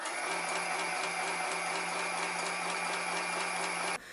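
A Zanome mini sewing machine runs in one steady, even whir with a fast rhythmic mechanical clatter, near and continuous, then stops abruptly just before the end.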